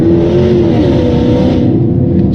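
A supercharged 5.0-litre AJ133 V8 in a Range Rover L322 revs loudly and steadily up close on a dirt road, a deep continuous engine roar holding throughout without any talk.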